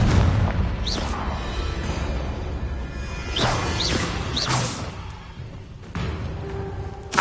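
Blasting Confringo spell effects in the video game Hogwarts Legacy, a dense run of booming, whooshing bursts and crashes with several sharp impacts, loud throughout over a game soundscape.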